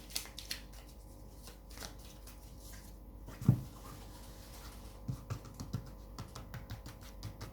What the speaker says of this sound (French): je vais recouvrir mes cartes avec des arcanes mineurs